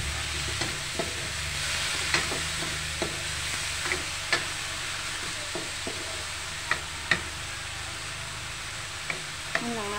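Chopped patola sponge gourd sizzles steadily in a hot pan for pancit, with a spatula scraping and tapping in repeated light strokes as it is stirred. No talking.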